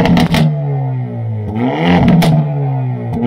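A 2022 Hyundai Elantra N high-performance sport compact sedan revving its exhaust, with a deep, loud engine note that climbs and drops in quick blips and ends with a few sharp crackles, close to the car.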